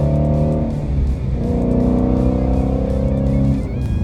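A high-strung Ford Mustang GT350 engine revs hard and continuously, rising and falling in pitch, loud and close with no voices.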